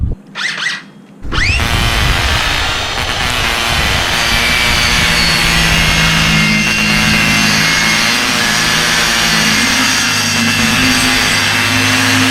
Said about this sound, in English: then we'll just trim around that with the jigsaw